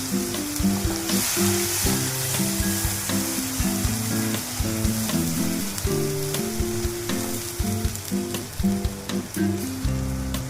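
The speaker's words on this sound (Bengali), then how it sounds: "এই তেলেই আমি টমেটো, পেঁয়াজ, রসুন, কাঁচা লঙ্কা বাটাটা দিয়ে দিলাম।" A paste of tomato, onion, garlic and green chili fries in hot oil, a dense continuous sizzle layered with rapid rhythmic scraping and clinking of a stirring utensil throughout, no speech.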